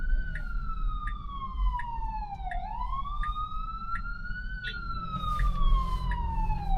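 An emergency vehicle siren wails steadily on a city street in Queens, its pitch sweeping up and down, loud and close over road noise and traffic rumble.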